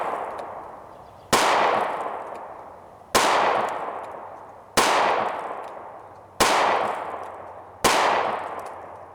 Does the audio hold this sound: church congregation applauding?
no